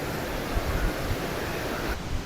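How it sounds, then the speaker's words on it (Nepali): Roaring river waterfall, a large flow of dark deep water dropping into a pool, gives a steady broadband rush that stays constant and close with no talk, then drops a little in level near the end. "तपाईँहरूलाई यो वाटरफल कस्तो लाग्यो"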